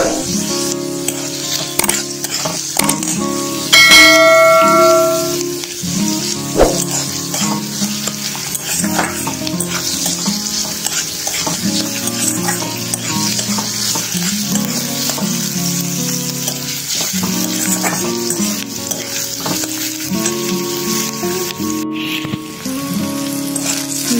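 Chopped onions frying in a pan for mutton rezala, a loud continuous sizzle broken by repeated stirring scrapes and clatter, with no voices.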